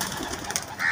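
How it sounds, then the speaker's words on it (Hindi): A pigeon gives a brief, soft coo at close range over faint background noise. "कबूतर"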